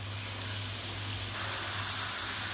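Sweet corn roasting in a pan gives off a steady, close sizzle, a dense frying hiss that grows slightly louder partway through with no talking.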